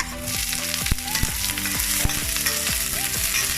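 Onions frying for pinakbet, sizzling steadily in hot oil while a utensil stirs and scrapes the pan in quick repeated strokes, close and without speech.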